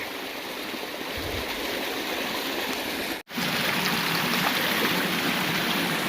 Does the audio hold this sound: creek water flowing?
yes